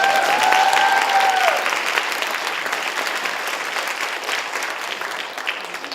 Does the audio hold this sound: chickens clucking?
no